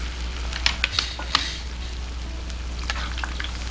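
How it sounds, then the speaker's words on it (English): Steady sizzling and crackling of battered vegan chicken deep frying in hot oil, with a few sharper pops and spatters over a constant low hum. "we're gonna let this fry"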